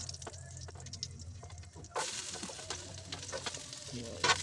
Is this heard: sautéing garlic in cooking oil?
yes